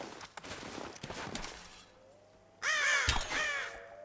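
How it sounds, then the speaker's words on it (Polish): A bird caws in Rise of the Tomb Raider, a few loud, harsh crow-like calls close by, following footsteps and rustling movement. "mam ptaka"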